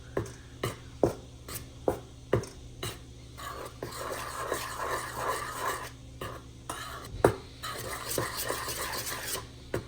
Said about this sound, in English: I want to give that a good little stir.